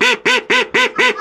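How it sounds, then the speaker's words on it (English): A female call duck quacking loudly and close up: five rapid, evenly spaced harsh quacks in a steady rhythm, with no talk. "is the female call duck"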